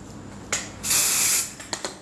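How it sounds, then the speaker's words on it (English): Dry shampoo hisses from an aerosol can onto hair roots in one loud, half-second burst near the microphone, with brief clicks and shorter puffs before and after. "that's when we bring in the trusty dry shampoo"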